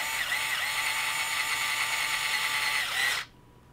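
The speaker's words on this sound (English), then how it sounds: "this is one I can drill driver the rest of the way in" Drill driver running a screw into a safety loop on a Losi LMT RC truck, a close steady whir lasting about three seconds before stopping abruptly.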